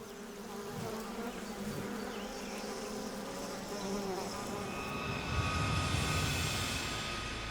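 A dense swarm of wasps buzzes continuously, a thick steady drone that grows slightly louder and closer toward the end.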